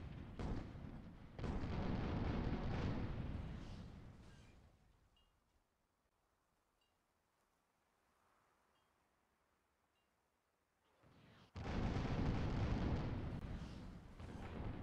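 Heavy weapons pound away in a multiplayer airship battle video game, dense rumbling bursts of fire that fade to near silence midway and then roar back loudly.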